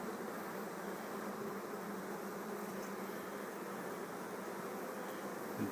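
Honeybees buzzing at an open hive during beekeeping work, a steady dense hum close by that continues unbroken, with no talk.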